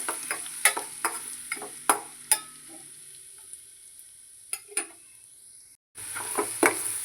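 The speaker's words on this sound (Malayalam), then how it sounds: "വെളുത്തുള്ളിയും വറ്റൽമുളകൊക്കെ നല്ല പൊരിഞ്ഞ് വരണം" Crushed dried red chili, garlic and curry leaves frying in oil for mango pickle, a steady close sizzle with a spoon knocking and scraping the pan in uneven clicks, briefly cut off before resuming.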